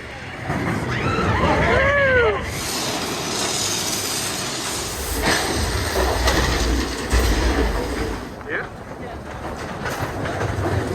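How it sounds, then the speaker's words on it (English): A Disneyland ride train runs along its track with a steady rumbling, clattering roar, while people talk and faint whistling tones rise early on. "Here's our train."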